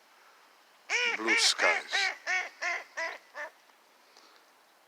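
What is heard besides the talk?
ducks quacking on melted water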